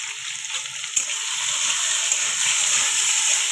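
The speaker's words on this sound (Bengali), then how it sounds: "আলুগুলো ভেজে নেবো" Potatoes fry in a pan with a steady, bright sizzle and hiss, and a faint stir or clink now and then.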